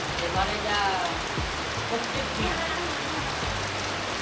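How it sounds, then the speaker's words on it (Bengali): Steady rain pattering on a surface, with a few low thuds and faint voices underneath. "এত বৃষ্টি গত দু তিন বছরে গ্রীষ্মকালে হয়নি"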